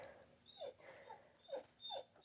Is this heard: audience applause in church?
no